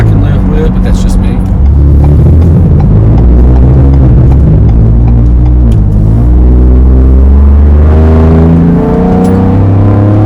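A Ford Bronco fitted with a Flowmaster Outlaw axle-back exhaust accelerates from inside the cabin, a loud, deep droning rumble whose pitch climbs and steps with the revs, with someone talking over it throughout.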